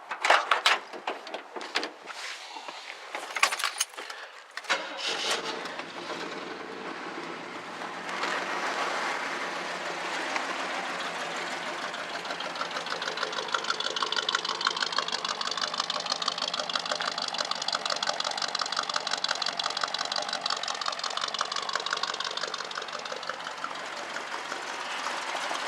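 A truck with a small block 350 V8 engine cranks and fires after a few clattery knocks, then settles into a smooth, steady idle that runs evenly and close by.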